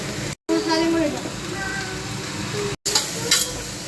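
Spices frying while chicken stew is stirred in a pot, a steady close sizzle with soft scraping, briefly cut by two short gaps.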